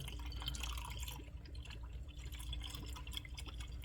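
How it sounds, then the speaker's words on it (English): Coolant in a BMW 440i cooling system bubbles and trickles steadily while the system is bled after a water pump replacement, a soft continuous gurgle over a low hum. "You can start hearing the bubbles and stuff."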